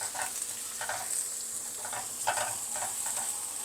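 Garlic and onion sizzle on a high flame for schezwan noodles, a steady hiss with soft repeated stirring scrapes every half second or so, close and alone without talk.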